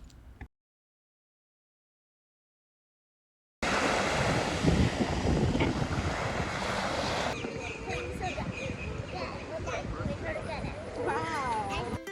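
Ocean waves at a beach with a steady broad wash of surf and heavy wind buffeting the microphone, following a brief silent gap, while people's voices come through faintly in the background.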